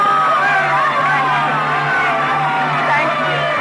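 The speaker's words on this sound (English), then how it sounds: "the supreme exaltation when you hear the full, frenzied applause of an audience for you" A frenzied audience in a radio drama, dense continuous applause and crowd roar mixed with scattered shouts and whoops, loud and steady throughout.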